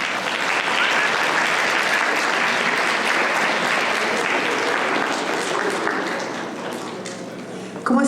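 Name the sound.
applause welcoming a speaker at a book presentation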